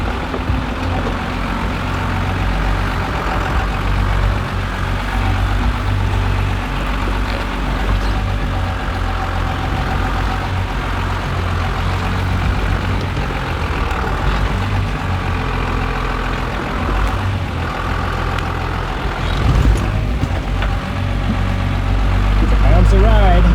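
A Cummins-swapped truck on 42-inch tires and 30-year-old axles, running in center diff lock with its engine labouring under load off-road, a steady low drone that swells near the end, with people talking over it.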